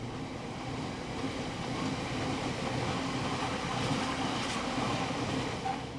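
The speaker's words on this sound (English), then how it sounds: "The train is one of the regular Liverpool to Drax biomass workings, routed over the Mid-Cheshire line" A British Rail Class 60 diesel locomotive hauls a regular Liverpool to Drax biomass freight train over the Mid-Cheshire line, a steady, broad rumble of engine and rolling wagons holding even for several seconds with no voices.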